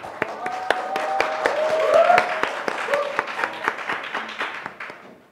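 Audience applause at a youth speech contest preliminary in Korea, scattered sharp claps from a modest crowd, fairly close, swelling briefly then thinning out, with a tonal voice or sustained sound running underneath partway through.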